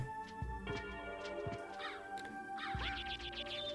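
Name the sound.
birds cawing in video game Castlevania: Symphony of the Night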